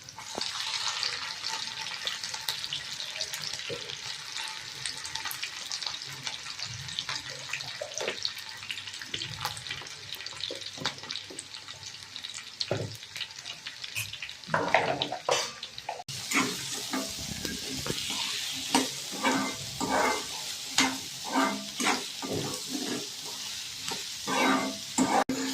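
Green chilies sizzle in hot oil in a home kitchen while being stirred for pithla, a steady frying crackle with scraping stir strokes, growing busier and louder partway through.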